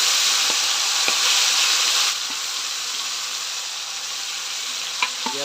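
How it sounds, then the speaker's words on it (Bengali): Chicken meat frying in hot oil, a loud dense hiss that eases slightly partway through, with a couple of faint utensil taps near the end and no speech. "তেল গরম হয়ে গেছে। এখন আমি মাংসটা দিয়ে দিয়েছি।"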